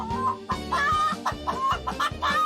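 Chickens cluck steadily and close by, a rapid string of short, throaty calls with no pauses.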